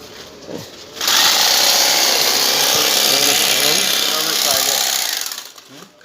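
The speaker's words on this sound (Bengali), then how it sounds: "নূরজাহান এক্সপোর্ট কোয়ালিটি এই চাউল এই ব্যাগে ভরে এখানে সেলাই করা হচ্ছে" Bag-closing sewing machine stitching shut sacks of Nurjahan export-quality rice at Patkelghata market, a loud steady mechanical whir running for about four seconds, with voices talking over it.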